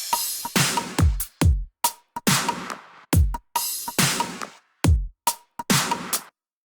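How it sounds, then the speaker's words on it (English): A dubstep drum beat and a percussion loop play together in 4/4, giving dense, loud, punchy kicks, snares and knocks in a steady repeating groove that stops abruptly near the end. "this is what it would sound like, both loops playing together in 4/4 meter"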